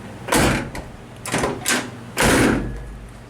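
A car's driver's door, just realigned, is swung shut in a garage, giving three solid thumps spaced about a second apart, close and fairly loud, with a faint voice between them.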